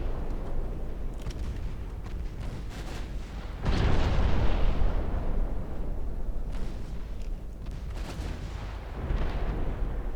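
Naval gunfire from warships in the Ultimate Admiral Dreadnoughts game booms over a rumbling background, with a cluster of heavy blasts in the middle and scattered distant shots around it.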